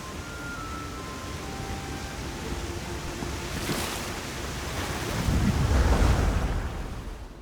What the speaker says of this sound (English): Come on, before the storm decides to sweep us away.